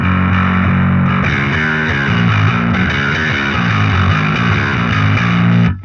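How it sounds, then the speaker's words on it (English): Bass guitar split into two channels with the high-frequency channel boosted, giving a fuzzy, distorted upper edge over the low end; a continuous, loud riff of repeated notes that cuts off abruptly at the end. "If you boost the other channel, you're distorting the higher frequencies"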